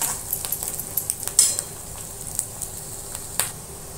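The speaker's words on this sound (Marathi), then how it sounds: "हे बघा हे कारलं आपण तळायला घेतो ना, तेव्हा गॅस मध्येच ठेवला." Bitter gourd frying in oil over medium heat, a steady soft crackling sizzle with scattered small pops and a brief louder spatter, no talking.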